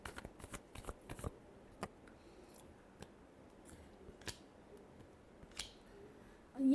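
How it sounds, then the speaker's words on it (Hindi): Tarot cards are shuffled up close in a quiet room, giving a run of crisp riffling snaps and soft flutters that is busy at first, then comes in sparse separate flicks. "Last shuffle."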